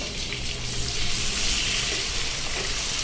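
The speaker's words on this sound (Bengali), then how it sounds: "দিয়ে টমেটোটা তেলের মধ্যে ভালো করে ভেজে নেব আমি।" Chopped tomato fries in hot oil for a Bengali tilapia curry with mustard paste. The sizzle is soft and steady and continues without a break.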